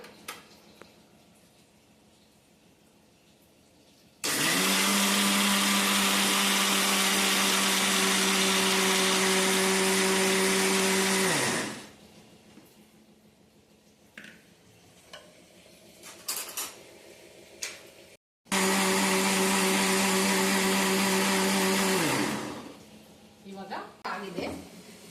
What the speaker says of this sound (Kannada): ಜಾರಿಗೆ ರಾಗಿ ಹಾಕಿದ್ದೀನಿ, ಸ್ವಲ್ಪ ನೀರು ಹಾಕೊಂಡು ಅದನ್ನ ಗ್ರೈಂಡ್ ಮಾಡ್ಕೊಳ್ಳೋಣ.